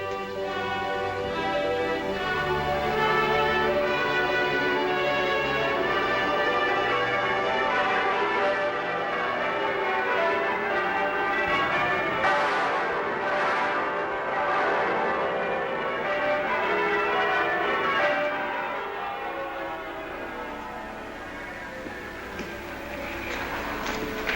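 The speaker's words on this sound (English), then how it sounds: "Now the bells begin to ring." Church bells peal in a 1937 film about the scattering of the Armada, a dense, loud, sustained ringing with layered overlapping tones that carries on throughout.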